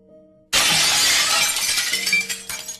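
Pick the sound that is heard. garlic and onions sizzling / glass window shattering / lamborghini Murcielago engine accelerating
glass window shattering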